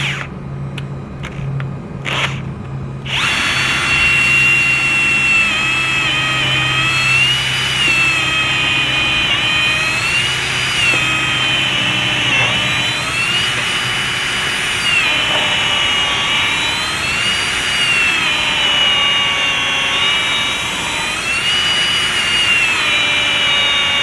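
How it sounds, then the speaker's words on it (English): A power drill bores a starter hole in wood while building a chicken nest box. After a few brief taps at the start, the motor whines steadily and loudly for about twenty seconds, its pitch rising and dipping as it bites into the wood. "So we'll take a drill and drill a starter hole."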